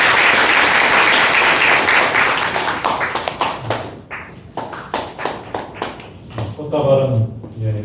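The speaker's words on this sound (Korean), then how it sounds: "박수로 축하해 주시기 바랍니다." A church congregation at a Sunday service claps loudly in celebration of a presentation, the dense applause thinning into scattered separate claps before a voice speaks near the end.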